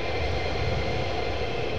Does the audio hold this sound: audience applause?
no